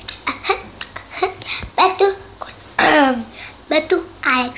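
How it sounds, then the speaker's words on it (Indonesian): Short coughs and throat-clearing sounds mixed with a voice speaking nearby, close to the microphone and moderately loud. "Lagi batuk."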